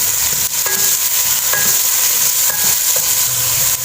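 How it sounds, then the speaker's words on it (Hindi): Tomatoes fry in hot oil while being stirred, with a loud, steady sizzle and a few bright scraping and clinking strokes of the utensil in the pan. "ऑयल में हम जो है वो टमाटर डालेंगे और इसको हम अच्छे तरीके से मिक्स करेंगे।"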